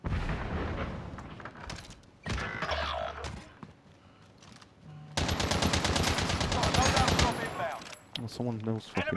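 Rapid automatic gunfire from the battle-royale video game Call of Duty Warzone, loud dense bursts of shots with booming impacts, broken by brief pauses, with a player's voice talking over parts of it.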